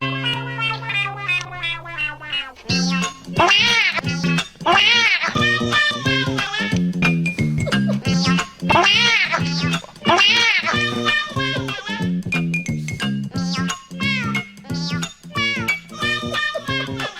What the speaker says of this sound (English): We're going to watch the cat video.